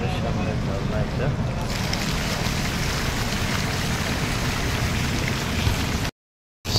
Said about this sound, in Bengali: আলকুট মলের সামনে ঝর্ণা এটা।